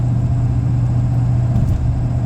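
A vintage diesel truck engine hauling a trailer at highway speed drones steadily. The loud low hum stays constant with road noise and no speech.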